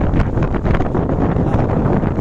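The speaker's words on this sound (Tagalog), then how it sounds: "Nakikita nyo naman at medyo mahangin." Strong wind on a ship's deck buffets the microphone in a continuous roaring gust, a dense rushing noise with no voices.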